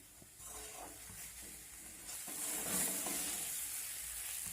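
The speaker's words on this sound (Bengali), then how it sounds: "ধুয়ে রাখা মুসুর ডালটা দিয়ে একটু নাড়াচাড়া করে নেব মশলার সঙ্গে" Washed red lentils stirred into spices frying in a pan for a cauliflower lentil dish, a soft close sizzle with scraping spoon strokes that swells slightly midway.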